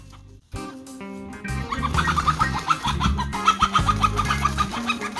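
A flock of homestead chickens clucks and squawks in agitation, many birds close by in a dense, rising chatter that grows busier after a brief pause at the start.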